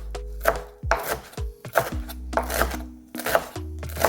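A knife chops fresh parsley on a cutting board, giving a series of crisp, close, fairly loud chops in uneven bursts with short pauses between strokes, and no talking.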